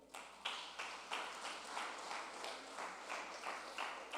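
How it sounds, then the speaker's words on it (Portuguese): A church congregation claps in a steady rhythmic beat, each clap a soft, even pulse repeating about every third of a second at a distance, faint and without talk. "As palmas para Ele"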